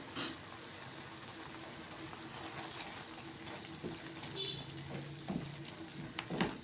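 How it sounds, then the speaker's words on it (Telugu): Tomatoes simmer in a pan with chili powder and ginger for a tomato ginger chutney, giving a low, steady bubbling hiss with faint scattered pops and a few light stirring clinks. "టమాటాలు అయితే ఉడుకుతున్నాయండి."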